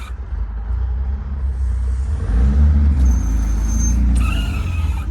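An old abandoned car's engine idles roughly and steadily right after starting up, loud and close, with a deep rumble that swells in the middle and a faint whine above it.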